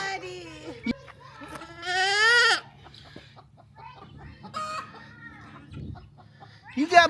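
A goat bleats amid other farm animal calls, with a clear loud bleat near the middle, chicken-like clucks and squawks around it, and a person speaking intermittently.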